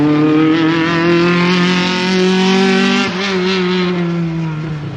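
A Honda car's engine revs hard at full throttle, giving a loud, sustained tone that climbs and then dips briefly before climbing again, with no talk.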